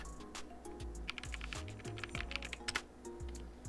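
Fast typing on a computer keyboard while entering a web address in a browser: a quick, dense run of close, crisp key clicks over a soft low hum, with no voices.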